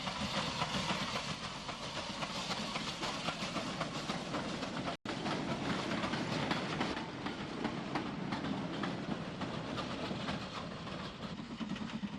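A long Dublin-bound Irish goods train hauled by a 0-6-0 steam locomotive rolls past in the 1950s, a steady dense rumble with rapid clickety-clack of wagons on the rails, continuous and fairly near.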